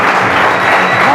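A church congregation applauding loudly in praise of God, a thick unbroken roar of clapping and crowd noise with voices mixed in.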